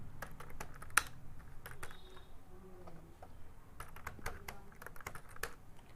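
A property address goes into a computer keyboard, soft key taps spaced irregularly across several seconds against a faint room hum, with no voice.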